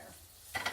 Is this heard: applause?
no